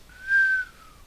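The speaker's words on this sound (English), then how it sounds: "Marion gave a low whistle." A single low whistle from one person, a smooth sustained tone lasting about a second that rises slightly and then trails off, heard clearly on its own with no talking.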